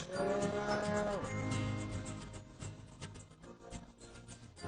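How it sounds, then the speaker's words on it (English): A herd of dairy cows on a farm of about 500 animals, moo loudly in the early morning: a long deep call at the start, then overlapping lowing continues throughout with no talk. "These are some of our 500 cows up at 4 a.m. this morning."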